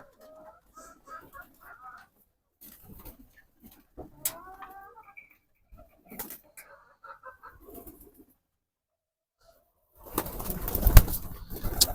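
Pigeons in a loft give scattered soft coos and clucking calls with quiet gaps between, ending in a burst of rustling and flapping noise.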